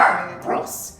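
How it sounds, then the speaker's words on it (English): Dogs bark and yip close by in a quick burst, overlapping a person talking indoors during a craft tutorial. "Sorry about the dogs, they've got comments to say as well about this."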